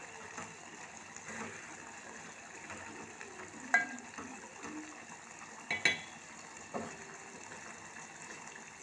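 Bitter gourd fries quietly in a pan, a soft, steady sizzle with a few scattered clinks and stirring knocks against the cookware.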